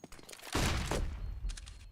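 Burst of rifle gunfire in a professional Counter-Strike match between Apeks and Ninjas in Pyjamas, a dense sustained volley of close shots followed by a quieter second flurry.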